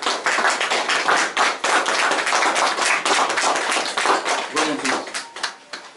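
An audience at an artistic creation exhibition applauds Professor Alexandru Măruță, a steady, dense clapping that holds strong throughout and thins slightly at the end.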